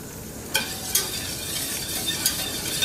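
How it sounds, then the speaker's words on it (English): Butter melting in a pan on a stove before flour goes in for macaroni and cheese, a soft continuous sizzle with a few sharp utensil clicks, no talking. "You want your butter to be fully melted."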